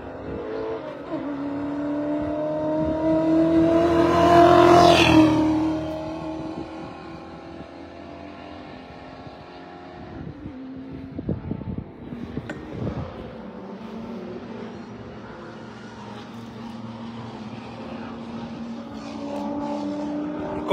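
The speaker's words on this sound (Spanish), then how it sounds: "Ah, miren, otro Studebaker." A Studebaker classic car in the Carrera Panamericana road race roars past with a loud rising and falling engine note, followed by quieter engine hum and distant crowd murmur.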